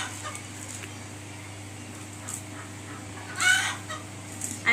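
Domestic chickens in a household coop, soft scattered clucks with one louder burst near the end over a steady low background hum.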